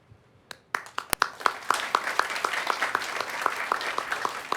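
Applause from a convention panel audience, starting with a few sharp separate claps and swelling into steady, rhythmic clapping that stays moderately close and fairly quiet.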